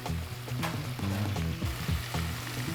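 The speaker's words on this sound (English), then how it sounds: "Drop it in with the chicken." Chicken pieces fry in hot, deep red cayenne-spiced oil, a close, loud, bubbling sizzle that holds steady through the short stretch with a low rumbling undertone and no talk.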